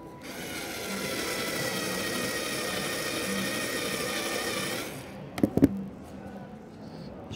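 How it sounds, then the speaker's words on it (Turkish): A small, low-voltage cordless drill bores a hole through plywood, giving a steady, close, loud whir for about five seconds before it stops, followed by a couple of sharp knocks. "Buraya bir tane ortaya delik deleceğim. Şarjlı küçük voltajlı bir matkabım var."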